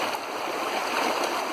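A stream flows in a steady, close, moderately loud rush of water with faint gurgles, continuous and without speech.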